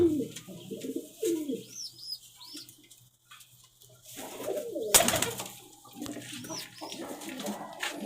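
Pigeons coo softly and repeatedly inside a loft in Rajshahi, Bangladesh, with rising-falling calls, occasional chirps and a sharp knock, while someone talks nearby.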